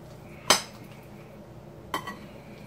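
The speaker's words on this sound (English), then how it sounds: "I'm going to just start mixing it all together." Potato salad dressed with hot sauce being mixed in a non-round bowl, giving two distinct clinks of a utensil against the dish about a second and a half apart over quiet background.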